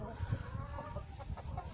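A rooster at a petting zoo gives short, near calls over soft farmyard background in a brief moment.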